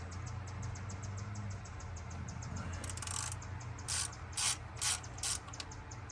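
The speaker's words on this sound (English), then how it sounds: "I'm gonna need to ratchet this one" A ratchet wrench works a tight bolt on the TPI engine of a 1991 Camaro Z28. A steady rapid ticking of the pawl runs throughout, close up, broken by a few louder bursts of ratcheting.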